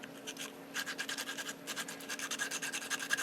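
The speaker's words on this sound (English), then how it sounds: "And you can hear that scrubbing action." A pipe cleaner wetted with Everclear scrubs inside the chamber of a tobacco pipe, giving close, faint, rapid rhythmic scratching strokes in quick bursts.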